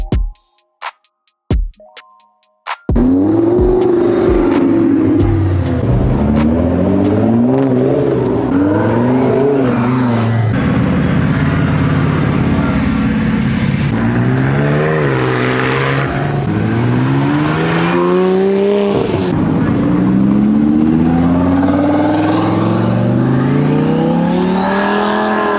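A Tesla Model S Plaid and other cars pull away and accelerate on neighborhood streets, with a rising whine and rushing road and tire noise that stays loud and steady after a short quiet start.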